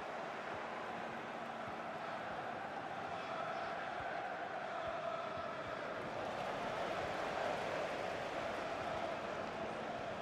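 A stadium crowd in the EA Sports FC 24 football game gives a steady, broad roar of cheering that holds at an even level the whole time, swelling slightly in the second half, with no clear talk on top.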